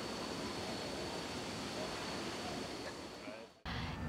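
A small waterfall on the Hà Giang loop in northern Vietnam roars as a steady, broadband wash of falling water, close and continuous, before cutting abruptly near the end.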